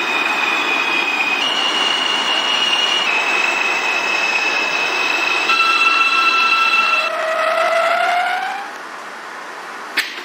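An Alstom R160A-1 subway train on the C line, simulated in OpenBVE, runs steadily with layered whining motor tones that shift pitch, then a rising electric whine as it slows, ending with a brief clunk.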